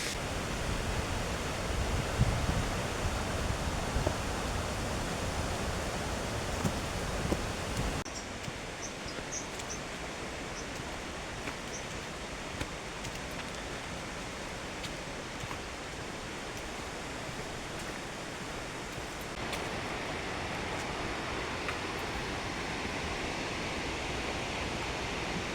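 A rainforest waterfall at Killarney, Queensland, pours in a steady, broad, hissing rush, faint and continuous from start to end with no voices or distinct events.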